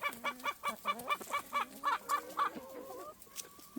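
A barnyard mix of chickens, including a golden Wyandotte, clucking in a rapid rhythmic series of calls, then a few drawn-out squawks, close by and clear with no talk.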